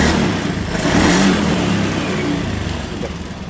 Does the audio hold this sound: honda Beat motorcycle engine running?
yes